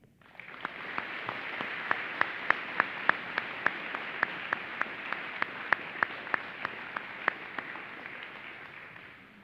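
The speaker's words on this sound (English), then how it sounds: "Please join me in a round of applause" Audience applause at a Veterans Day program, a steady broad wash of many hands clapping for about nine seconds with sharper individual claps standing out, fading slightly at the end; no talking.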